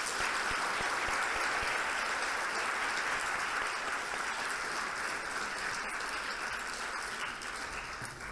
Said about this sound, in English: Please join me in extending a warm round of applause to His Excellency Dr.